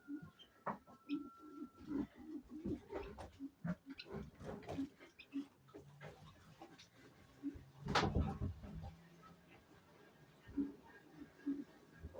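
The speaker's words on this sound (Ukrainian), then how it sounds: "Да, голуби." Soft low pigeon coos repeating irregularly close by, with occasional rustles and a louder scraping thump partway through.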